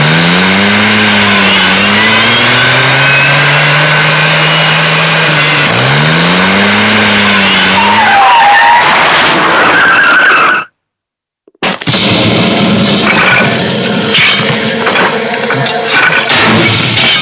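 A car skids and revs loudly in a movie sound effect, with sweeping tire squeals and engine roar filling the scene. A short silent gap is followed by a dense, busy roar.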